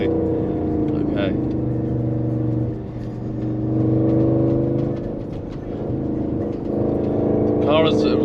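Audi RS6 Stage 2 at 750 hp with a Milltek exhaust, driving: a continuous engine hum that rises and falls in a few gentle surges, with someone talking over it throughout.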